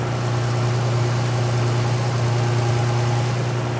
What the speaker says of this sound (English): it sounds like a bearing idler pulley or something like that